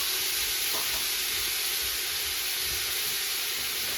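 Ground garlic, ginger and onion paste sizzles in a hot pan as a steady, loud, bright hiss that holds without a break from start to finish.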